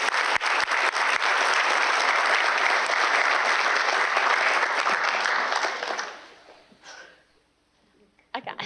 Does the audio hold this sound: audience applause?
yes